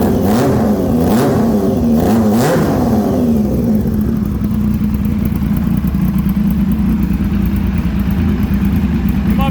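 A handmade Triumph chopper with a rigid frame runs loud and close, its engine blipping up in a few revs early on before settling into a steady, throbbing idle that carries on alone.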